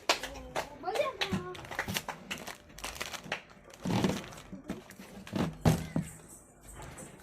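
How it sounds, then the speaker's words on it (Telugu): Scattered hand claps and brief clapping bursts from children playing an alphabet guessing game, mixed with a voice talking between them and some crinkling handling noises. "ఈ కంగ్రాట్స్, క్లాప్స్ కొట్టండి."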